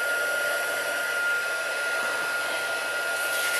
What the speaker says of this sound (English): Just heating up my heat gun